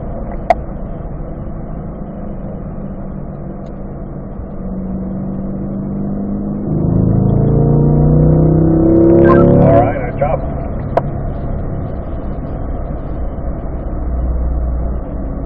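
Cars circling a racetrack during a performance driving school session, engines droning steadily in the distance, then one car passing close with a louder, rising rev around the middle before fading back, as an instructor talks over the engine noise.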